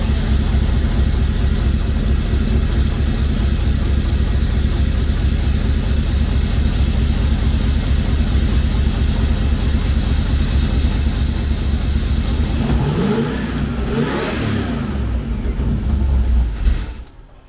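Turbocharged truck engine fitted with a plain air cleaner instead of its boost tube, running as a loud, close, deep steady rumble that holds for most of the time before a brief rise and cut-off near the end.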